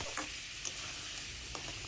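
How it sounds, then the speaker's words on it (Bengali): Boiled potatoes and peas fry in a pan with a steady, close sizzle, broken by a few soft clicks and scrapes of stirring. "এখন একটু ভালো করে ভাজা ভাজা করে নেব"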